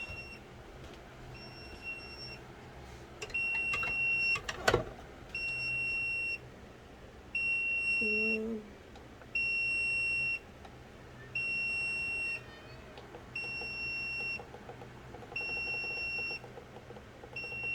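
An incubator beeps repeatedly in a steady on-off pattern, loud, insistent tones every second or so, with a brief clatter early on.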